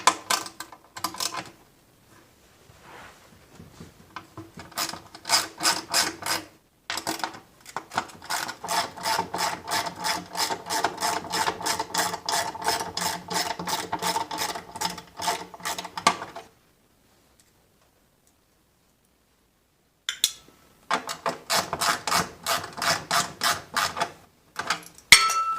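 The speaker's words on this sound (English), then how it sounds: "First thing I'll do is take off these two 8mm bolts at the bottom." A hand ratchet loosening two 8mm bolts at the bottom of a Honda Goldwing motorcycle's front wheel assembly, giving close rapid clicking runs in several bursts separated by silent pauses.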